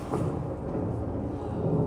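Storm noise from a thunderstorm, with a steady low rumble and heavy wash through the whole stretch, like distant thunder rolling under rain, no voices.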